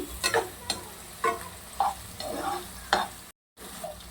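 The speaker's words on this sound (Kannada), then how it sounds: "ಈಗ ಹಸಿಮೆಣಸಿಗೆ ಕೂಡ ತುಂಬ ಚೆನ್ನಾಗಿ ಫ್ರೈ ಆಗಲಿ" Onions and green chillies fry in a pan while a spoon scrapes and stirs them in repeated strokes over a soft, steady sizzle, close and moderately quiet, with no talking.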